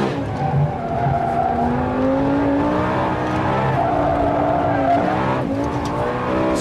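Lamborghini Gallardo SE driven hard on a test track, engine droning and shifting pitch while the tyres squeal in long sustained howls, close and loud with no talk over it.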